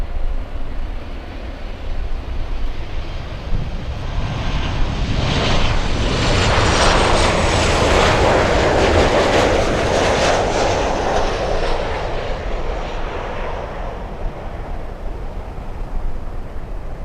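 An American Airlines Boeing 737 jet passes at Miami International Airport, its engine roar swelling to a loud peak midway and then fading, steady and broadband throughout.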